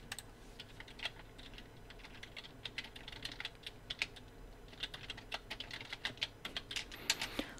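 Keyboard shortcuts tapped out on a computer keyboard in Illustrator, a faint, quick irregular run of clicky keystrokes with short pauses, no voices.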